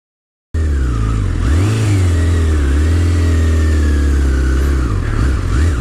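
A motorcycle engine runs steadily near the mic at low speed while the rider feathers the clutch through a slow pylon weave, its revs rising and dipping gently in a continuous mid-pitched drone.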